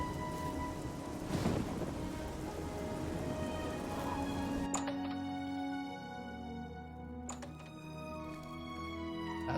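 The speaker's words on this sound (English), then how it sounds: "It's raining." Rain falls in the fantasy video game Oblivion as a steady, dense hiss with a low rumble like thunder, later joined by sustained tonal notes over the downpour.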